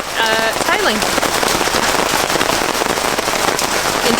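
Tiny hailstones falling outside make a dense, steady crackling patter, loud and continuous, with a brief faint voice-like sound near the start.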